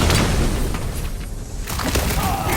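Dense rumbling booms and bursts of rapid gunfire fill the clip continuously, loud and close, a chaotic battle in the video game Guardians of the Galaxy.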